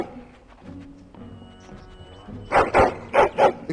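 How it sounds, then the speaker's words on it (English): A hound in Dragon Age: Origins gives a run of four loud, excited barks in quick succession, starting after a quieter stretch of game ambience. "Excited barking."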